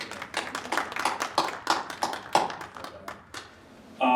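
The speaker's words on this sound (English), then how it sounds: "Can we please give them a round of applause?" Audience at a panel talk applauding: scattered, uneven hand claps from a modest group, fairly close, thinning out toward the end before a brief louder sound cuts in.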